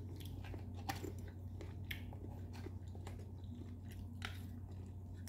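Close, quiet chewing and crunching of a crunchy yet chewy appetizer during a hotel quarantine in Genting, with irregular bites and mouth sounds and no talk.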